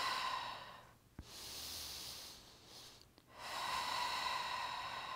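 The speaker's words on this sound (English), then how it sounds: "Inhale as we stretch, and exhale," Slow breathing during a pilates hamstring stretch, with two soft sighing exhales separated by brief sharp intakes, close and quiet over a faint background hum, no talking.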